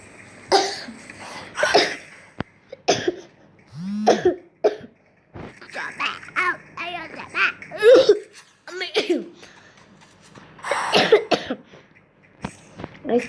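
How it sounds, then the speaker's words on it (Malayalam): Someone with a fever coughs several times in short, close bursts during a Free Fire game session. Laughter and lively talk come between the coughs. "ചുമ"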